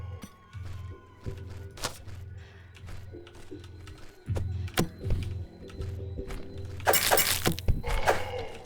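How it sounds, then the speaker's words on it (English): A crossbow repeatedly looses bolts in the survival game Aeon of Sands, a series of sharp clacks and thunks at uneven intervals over a low hum, ending in a brighter burst of crashing noise. "I forgot how rapidly we were actually able to fire a crossbow"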